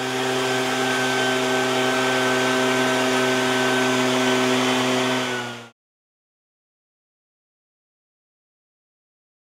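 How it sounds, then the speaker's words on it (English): An agricultural mist blower cum duster for spraying crops runs at a steady loud whine with strong engine harmonics for about five and a half seconds, then cuts off abruptly to silence. "This mist blower cum duster is an efficient and useful machine for crops on large area."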